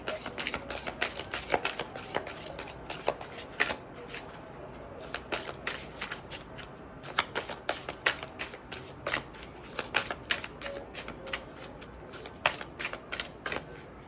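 Sacred Light Oracle cards being shuffled close up, with a long run of crisp, irregular riffling clicks and taps in quick bursts that stop and start, with no talking.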